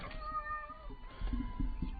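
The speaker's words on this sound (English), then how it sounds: "That's my cat, by the way, if you wonder what I'm talking about." Blossom, a pet cat, gives a couple of drawn-out, wavering meows up close, followed by softer low murmurs and shuffling, with no one talking.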